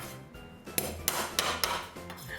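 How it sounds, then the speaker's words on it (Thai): Jinda chili peppers lightly pounded for a spicy pickled fish soup, giving about five sharp, evenly spaced knocks, close and fairly loud, with no talking. "พริกจินดานะครับ ทุบแค่แตกๆนะครับผม"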